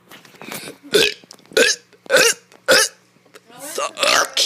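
A kid belches repeatedly, a string of about six loud, separate burps in quick succession with short gaps, close to the mic and mostly alone.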